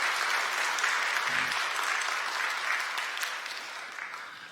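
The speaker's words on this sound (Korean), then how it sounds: "여러분들 환영의 박수 부탁드립니다." A church congregation at a Korean Sunday worship service claps in welcome, a steady, moderately loud wash of applause that holds for several seconds and slowly tapers, with no talking over it.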